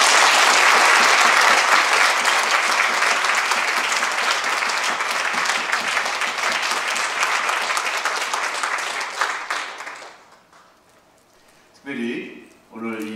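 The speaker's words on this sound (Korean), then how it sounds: "이 두 분 귀한 목사님을 위해서 감사와 존경의 박수를 아낌없이 쳐주시기" A church congregation gives sustained, dense applause for two pastors at a 38th-anniversary ordination service, steady and loud for about ten seconds before fading. A voice speaks briefly near the end.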